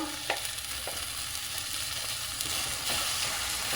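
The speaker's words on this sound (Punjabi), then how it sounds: "ਆਪਾਂ ਮਸਾਲਾ ਚੰਗੇ ਤਰੀਕੇ ਨਾਲ ਭੁੰਨਾਂਗੇ" Masala and tomato paste fry in a pan for a mushroom and pea curry, with a close, steady sizzle and occasional stirring scrapes throughout.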